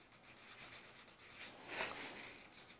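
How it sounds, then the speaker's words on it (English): Fine 1200-grit sandpaper rubs across a vinyl doll in soft, steady back-and-forth strokes, faint and close, with one slightly stronger stroke midway and no voices. "I'm going to use the 1200 sandpaper, and I'm going to sand that off"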